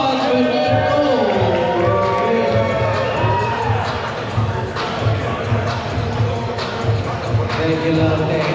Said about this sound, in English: Round of applause for Nicole